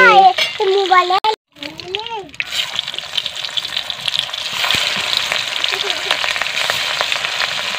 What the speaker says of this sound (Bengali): এই মাছটা কিন্তু অতটা ফোটেনি, খুব সুন্দরভাবে ভাজা হলো